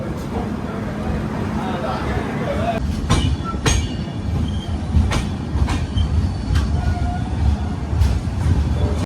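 Mandovi Express passenger train running between Goa and Mumbai, a steady loud rumble of wheels on track with rhythmic clicks and squeals through the carriage, with voices talking over it.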